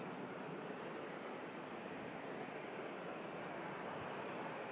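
A Sky Up airliner lines up for takeoff at Manchester Airport, its jet engines giving a steady, distant broadband roar that holds constant throughout with no talk.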